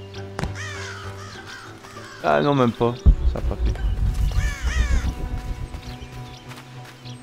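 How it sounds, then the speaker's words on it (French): A crow caws a couple of times in the video game Shadow of the Tomb Raider, fairly clear bursts among game sounds, with someone talking over them. "je vais essayer de dégommer un oiseau avec"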